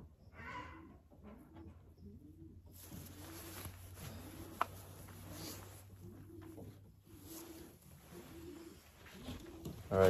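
Young racing pigeons coo in a repeated, steady rhythm at close range, soft throaty calls rolling one after another with a light background hiss and a brief click near the end.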